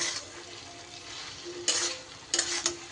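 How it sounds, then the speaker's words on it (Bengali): Fried taro and potato stir-fried with hilsa in a hot pan, a steady sizzle broken by a few sharp scrapes of a spatula against the pan, close and alone. "আলু আর মানকচুটা দিয়ে খুব ভালো করে আমি কিন্তু কষিয়ে নেব"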